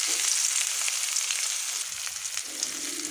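Onion, mustard seeds and curry leaves fry in leftover oil, giving a steady close bright sizzle with small crackles and an occasional stir, and no one speaking.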